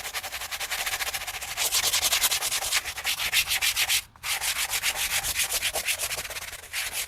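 Rubber car floor mat scrubbed with a brush, a steady rapid back-and-forth rasping that runs loud and close for about four seconds, breaks off briefly, then resumes in the same quick rhythm.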